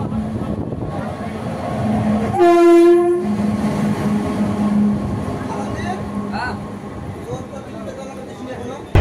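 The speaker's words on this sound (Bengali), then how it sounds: "নির্দিষ্ট সময় থেকে প্রায় আধ ঘন্টা লেটে স্টেশনে ঢুকলো আমাদের train 13141 Sealdah new Alipurduar Teesta Torsa express" The 13141 Sealdah–New Alipurduar Teesta Torsa Express arrives at Katwa Junction, running late, with a steady rumble and a loud horn blast midway. Station chatter can be heard in the background.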